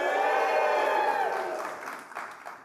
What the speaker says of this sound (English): On three, we're all going to cheer